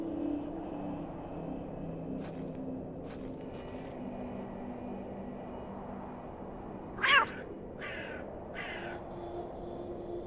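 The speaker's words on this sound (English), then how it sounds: "That cat again." A single short cat meow in The Excavation of Hob's Barrow adventure game, sharp and fairly close, rising out of a quiet low ambient hum, followed by a couple of fainter clipped sounds.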